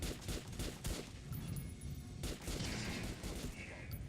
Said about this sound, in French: tire sur le mannequin et tire